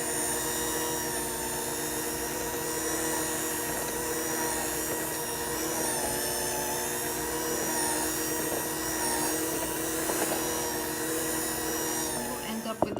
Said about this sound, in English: I'm gonna take my hand mixer and mix everything together.